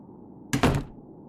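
A single door thuds open with a short wooden knock and brief rattle, fairly close, in an otherwise quiet room.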